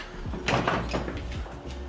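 A lightened door from a $600 Mustang project car is handled and shifted into place, giving a few dull knocks and clunks close by with no talking.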